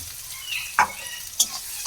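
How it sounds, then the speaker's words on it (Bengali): Long slices of a large onion frying in oil in a pan: a steady sizzle with a couple of sharp scrapes as a spatula stirs, close and with no talk. "পেঁয়াজটাকেও বাদামি রং আসা পর্যন্ত ভেজে নেব"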